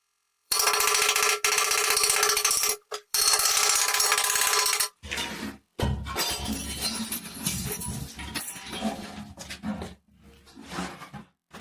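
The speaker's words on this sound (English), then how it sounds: "So I had to break the toilet bowl because the screws anyway all snapped when I tried to loosen them." A ceramic toilet bowl is smashed apart, loud cracking and shattering bursts followed by clattering, scraping shards and intermittent impacts, close to the microphone.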